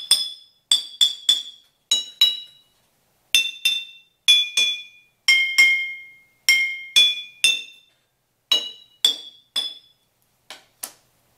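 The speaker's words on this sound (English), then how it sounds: "If I strike the bottles, notice what happens to the pitch that you hear as we go from the empty bottle to the more full" Glass bottles holding different amounts of liquid are struck one by one, giving bright ringing clinks that step through different pitches, each tone decaying quickly, in a quiet setting with no talking.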